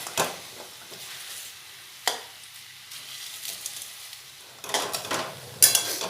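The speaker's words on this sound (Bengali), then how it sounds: "মাথাগুলো একটু ভেজে নেব।" Hilsa fish heads frying in a pan with a soft steady sizzle, broken by a few stirring scrapes and a brief clink of a utensil against the pan near the end. No voices.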